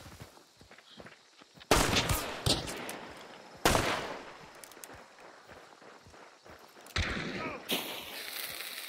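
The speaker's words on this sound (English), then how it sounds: "It's shooting at me now." Gunfire in the video game Hunt: Showdown: three loud, sharp shots spaced a couple of seconds apart, each trailing off into a ringing echo, with quieter footsteps and rustling in between.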